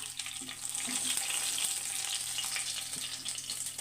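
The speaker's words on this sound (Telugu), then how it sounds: "ఇదిగోనండి చేప ముక్కలు ఫ్రై ఇలా చేసుకోవాలన్నమాట" Fish pieces fry in a pan with a continuous close sizzle and crackle, a bright hiss dotted with small pops and a faint low hum beneath, no talking.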